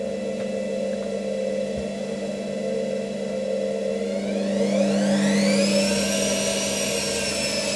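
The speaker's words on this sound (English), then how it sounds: "Motor bearings sound a bit dry." A washing machine motor with dry bearings runs with a steady low hum and whir, then a rising whine climbs in pitch and settles into a high sustained tone as it speeds up.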